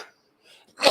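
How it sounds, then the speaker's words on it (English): A single sneeze bursts out loudly at the end, preceded by a faint breath intake and a quiet stretch. "I'm feeling some sneezes coming on."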